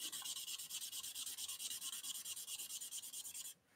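Rapid rhythmic scratching of a chisel-tipped marker rubbing back and forth on paper, blending colours from dark to light, with steady close strokes for about three seconds before stopping.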